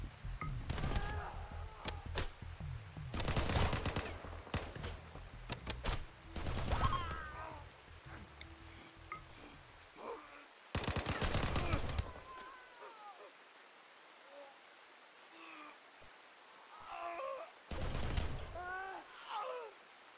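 Gunfire from a RimWorld battle, heard as loud broadband bursts of shots repeating at irregular intervals. Game music and other effects sit underneath, and brief whistling tones pass between the volleys.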